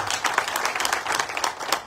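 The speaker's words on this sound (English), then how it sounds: "A round of applause to our sponsors." An audience applauds sponsors at an Eswatini Bank-supported JA financial literacy program event, with steady, dense clapping from a crowd throughout a short burst.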